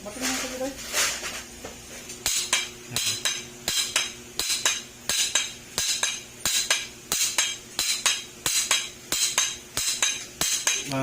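A hammer taps a part into a Honda ADV160 or Honda Click125 scooter engine again and again in a steady rhythm, sharp ringing strikes coming about twice a second, close by.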